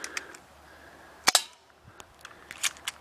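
Shots from a gun on an arcade shooting game: a sharp loud burst around the middle, then a few lighter pops scattered near the end, with electronic game sounds in between.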